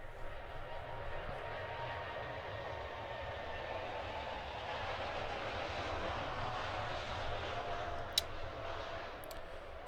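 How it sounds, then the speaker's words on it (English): An airplane drones steadily in the video game Gibbous: A Cthulhu Adventure, a low continuous engine hum at moderate distance that stays even throughout, with faint background tones over it. "I hear the plane, but I don't see it."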